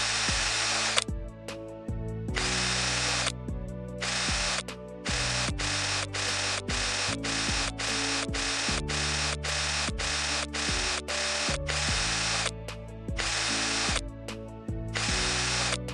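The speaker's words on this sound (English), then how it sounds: "we'll use an electric screwdriver. Each mask usually has about 18 screws." Electric screwdriver backing screws out of the mask of an outdoor P3.9 hard-encapsulated LED module, a close, loud whirring buzz in repeated short bursts separated by brief pauses, each run starting and stopping sharply.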